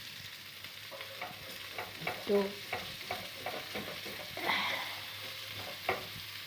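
Food sizzles as it fries in a pan, with soft clattering stirring and a few sharper scrapes over a low steady hiss, and a brief voice speaks once.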